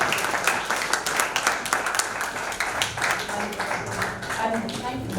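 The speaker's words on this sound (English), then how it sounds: "please, loudest round of applause for this person" An audience at a Mother's Day festival gives a steady round of applause, continuous clapping with a voice talking over it at moments.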